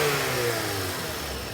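The 2.4 liter K24 engine of a 2009 Acura TSX, which has a ticking fault, drones steadily and loudly from inside the car in a brief stretch with no talk.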